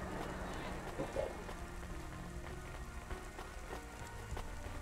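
Steady rain falls on surfaces in the Cloudpunk video game outside a humble restaurant, a constant hissing patter with a few faint taps and thuds, continuous and moderately loud, no talking.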